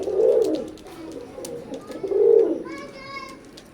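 Teddy pigeons coo in two low, throaty swells, close by, followed by a brief higher chirping call, with no voices.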